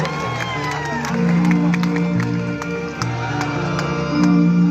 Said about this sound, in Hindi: दोनों हाथों को खोलकर जोरदार तालियों से स्वागत कीजिएगा।